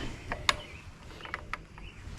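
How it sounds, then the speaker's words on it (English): Nissan KA24DE engine in a 300ZX project car being turned over by hand, faint mechanical clicks and light metallic ticks spaced irregularly over a quiet background. "Let's try and spin the engine just to confirm."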